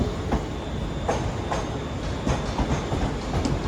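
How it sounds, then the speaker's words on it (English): A Scotrail train pulls into Glasgow Central station, its wheels clicking in a regular clickety-clack over rail joints amid steady rumbling, heard nearby with no talk. "arriving now is the 10:27 Scotrail service terminating here at Glasgow Central"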